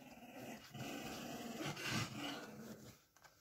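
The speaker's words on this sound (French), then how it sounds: "Et finalement les chiens foutent le bordel." Several dogs growl continuously during rowdy indoor play, a steady close rumble with small yips and pants, without speech.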